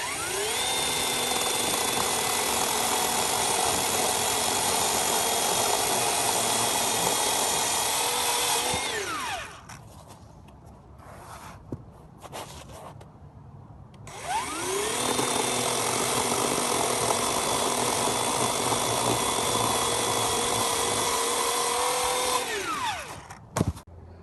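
Black and Decker LCS1240 electric chainsaw with a 12-inch bar revs loud and cuts through a 3-inch log, with a steady whine for about nine seconds, a short lull, then a second long cutting run before winding down.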